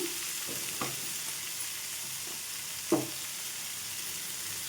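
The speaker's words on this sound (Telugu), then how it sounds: "ఇప్పుడు టమాటాలు వేసేసుకుందాం అండి మూడు చిన్న సైజు తీసేసుకున్నాను ఈ టమాటాలు కూడా వేసేసుకొని ఇందులో కొద్దిగా సాల్ట్ వేసుకుందాం" Small tomatoes with salt frying in a pan, a steady soft sizzle with a few scraping stirs and clinks of a utensil against the pan, close by with no talk.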